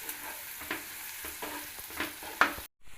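Ginger garlic paste and green chillies frying in a pan for a quail egg masala, a steady close sizzle broken by a few stirring scrapes before the sound cuts off abruptly near the end.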